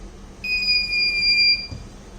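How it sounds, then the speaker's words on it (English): A high electronic buzzer alarm on a Raspberry Pi battery management system sounds steadily for about a second, clear and continuous, then cuts off over faint background hiss. "the system will provide us the audible alert through the buzzer"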